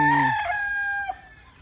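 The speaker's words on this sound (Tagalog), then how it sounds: "pakita natin yung isa nating stags na huling itatali ni Axel" A young gamecock stag crows once nearby, a loud drawn-out call that rises and then trails off, with no other sounds around it.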